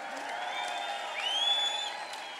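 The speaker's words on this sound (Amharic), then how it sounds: "ከዚህ በላይ ክብር፣ እልልታ፣ ጭብጨባ።" Church congregation applauding and ululating, a dense steady wash of clapping with high trilling ululation rising over it, sustained and moderately loud through the short span.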